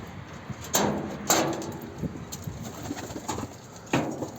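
Pigeons cooing softly as they are let out of their coop after days shut inside, with a few short coos over a steady low background rustle.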